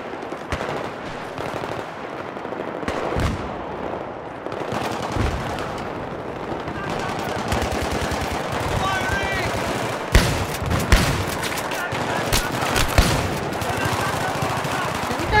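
Gunfire in the PC game Battlefield 3, with rapid bursts and single shots cracking close and loud throughout, some sharp reports standing out near the end, over a dense background of battle noise.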